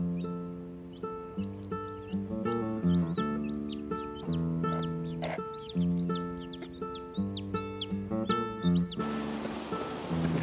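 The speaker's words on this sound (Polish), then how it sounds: "Pierwszy raz miałem okazję spotkać dzikie kury." Repeated clucking and short chirpy calls from wild chickens in the Azores, a steady stream of calls with a drone underneath and a burst of noise near the end.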